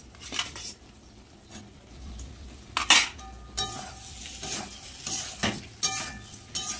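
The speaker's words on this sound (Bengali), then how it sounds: "এবার ওপর থেকে ভেজে রাখা ফুলকপিগুলো দিয়ে দেবো।" Fried cauliflower tossed into spiced masala in a pan for a vegetarian Bengali dish, with sharp clinks of a spoon against the metal pan, scraping stirs and bursts of sizzling, all close by and with no talking.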